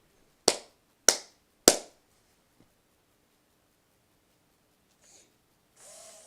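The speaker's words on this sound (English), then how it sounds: "I tapped or clapped 3 times" Three sharp claps or taps given as a command to an i-Cybie robot dog by Tiger Electronics, evenly spaced about half a second apart, close and crisp in a quiet room, followed by faint rustling.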